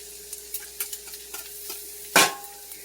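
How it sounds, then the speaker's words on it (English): Garlic stirred in a sizzling pan for a beef and mushroom risotto, a series of light utensil taps and scrapes over a low frying hiss, ending in one louder scrape, close and without talk. "I'm going to go ahead and want to just mix that up so it does not burn"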